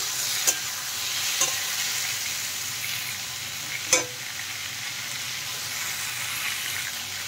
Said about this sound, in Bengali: লাউ আর আলু দেখেন হালকা ভাজা হয়ে গেছে।